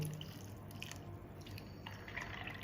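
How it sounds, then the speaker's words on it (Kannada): Quiet water trickling and dripping into a container of dried fruits, low and continuous, with no one speaking. "ಇವೆಲ್ಲ ಡ್ರೈ ಫ್ರೂಟ್ಸಿಗೆ ನೀರು ಹಾಕ್ತೀನಿ"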